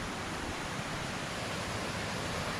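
Clean water runs steadily along a small village stream in rural Assam, a soft, continuous rushing wash with no pauses.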